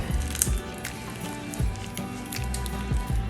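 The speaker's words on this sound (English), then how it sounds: "So she's just piping our eggs." Deviled egg filling being squeezed from a piping bag onto eggs: soft, wet squishing and squelching pops repeating in irregular bursts, close and fairly quiet, with no talk.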